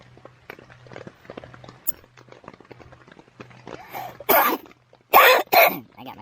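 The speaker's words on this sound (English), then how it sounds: "I got my cough coming back now." Coughing from a person inside a hot tent while backyard camping, a run of loud, harsh coughs near the end after quieter rustling and small sounds.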